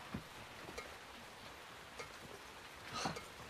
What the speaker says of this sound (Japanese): 雨の音。